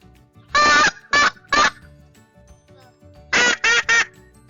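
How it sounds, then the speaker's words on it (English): Two loud bursts of duck or goose-like quacking calls, a group of three then another three, sharp and close against a quiet room background. "Oh, here they come! Quack, quack, quack, quack, quack, quack, quack."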